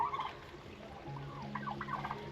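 Backyard turkeys gobble in short, warbling bursts at the start and again near the end, faint and somewhat distant over a quiet outdoor background with no talking.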